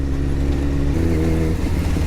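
A Kawasaki ZX14R sport motorcycle revs hard as it accelerates on a highway, its engine tone loud and close and rising in pitch partway through.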